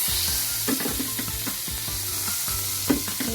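Butter with a little olive oil sizzles steadily in a hot pan, close and fairly loud, with scattered stirring clicks and taps over soft background music.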